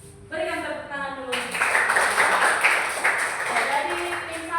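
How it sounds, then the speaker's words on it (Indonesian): A group claps and applauds at a teachers' creativity contest for a PGRI anniversary event in Poso, with a voice first, then a dense, steady burst of clapping that carries on for several seconds. "Berikan tepuk tangan dulu"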